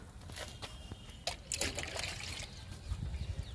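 Pink liquid fertilizer poured onto potted flowering plants, verbena among them, a soft trickling dribble of liquid with brief splashy bursts at close range, fairly quiet throughout.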